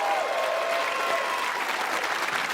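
A game show studio audience applauds steadily for a contestant, a dense, continuous wash of many hands clapping close and loud with no break.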